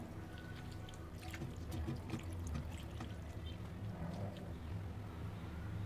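Water pours steadily with a continuous splashing, gurgling wash over low background rumble, moderately close and without pause, as plenty of water is poured to rinse lemon from homemade rasgulla.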